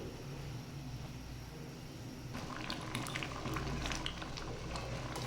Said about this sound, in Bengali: দেখুন আমার ডালটা কত সুন্দর ফুটতেছে